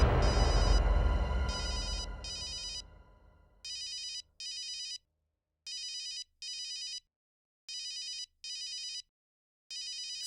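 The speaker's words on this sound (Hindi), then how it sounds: "डॉक्टर नियति का फोन है, क्या करूं?" A telephone rings in a quiet room during a police investigation drama, after a fading louder sound. The rings come in repeated pairs of short electronic bursts, evenly spaced and clear, with no talk over them.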